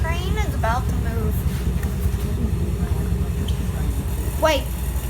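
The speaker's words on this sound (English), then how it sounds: "Train is about to move." A TECO streetcar in Tampa begins to move, its low rumble steady and close beneath passengers' voices that come and go.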